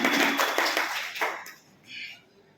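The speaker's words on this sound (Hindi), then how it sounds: "जोरदार ताली बजाइए" Audience at a dowry-prevention gathering in Muzaffarnagar claps loudly in a dense burst that fades after about a second and a half, leaving quieter scattered sound.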